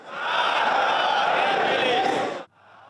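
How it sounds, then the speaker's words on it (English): A large crowd chanting in unison, loud massed voices shouting a political slogan for about two seconds before cutting off abruptly into quiet. "The crowd chanting death to America, death to England, and also death to Israel"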